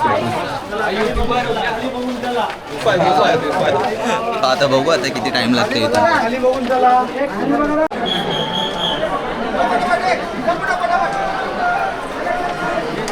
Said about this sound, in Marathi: फुल गर्दी.